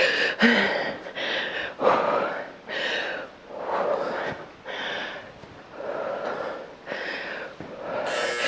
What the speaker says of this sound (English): You might hear me breathing hard